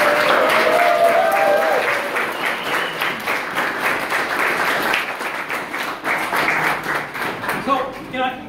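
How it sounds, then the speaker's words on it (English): An audience at a photography degree show applauds the students with a loud, sustained round of clapping close by, a voice briefly audible over it at the start and more talk as it winds down. "So can I ask for a round of applause for the students?"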